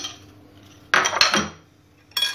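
A utensil scraping and clinking against a bowl while rice salad is stirred with a mayonnaise, milk and black pepper sauce: a quiet lead-in, then a clattering scrape near the middle and a short clink at the end.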